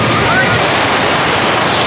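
Pochera Waterfall roars as a steady broadband rush of falling water, loud and close throughout, with no pauses or other distinct sounds standing out.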